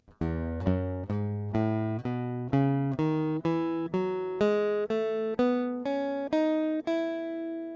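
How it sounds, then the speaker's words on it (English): An AG6 guitar through a Magnetico pickup and a Jam amp plays a single-note scale climbing step by step, about fourteen clear, evenly spaced plucked notes ringing close and clean with no talking. "I'm just going to play some scales up and down just to give you an idea of what this sounds like out of the box"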